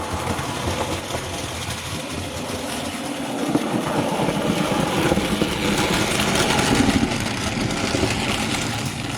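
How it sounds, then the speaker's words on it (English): A small Wrenn Class 08 model train set locomotive runs along its track with a continuous rattly, whirring rumble that swells slightly as it nears, heard up close with no talk. "That's just a wee train set train"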